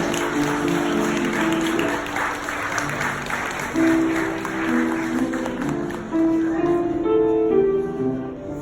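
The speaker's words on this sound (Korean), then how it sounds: "여러분의 따뜻한 박수 한 번 더 부탁드리겠습니다" Wedding guests applaud for a sustained stretch, with warm music playing underneath the clapping.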